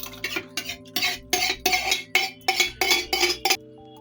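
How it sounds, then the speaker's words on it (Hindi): Cooked rajma dal stirred with a spoon in a metal pressure cooker, about eight rhythmic scraping clinks close up, each a short burst of metal against metal, no talking. "तो मैं इसको अभी कुकर में इस तरीके से मिक्स कर लूंगी।"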